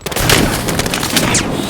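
Dense, rapid gunfire and booming blasts from a Battlefield Hardline firefight, loud and continuous for under two seconds with overlapping shots.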